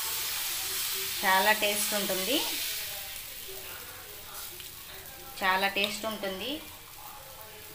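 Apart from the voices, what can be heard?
dosa batter sizzling on a hot pan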